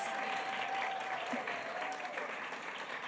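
An audience at a women's empowerment event in Cape Town gives the finalists a sustained round of applause, a dense, even patter of many hands filling the room without pause.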